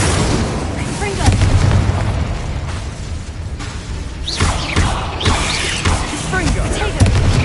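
Explosion spells from a Harry Potter video game burst out in a loud, busy series of booms and pops over a steady game background, with a voice shouting throughout.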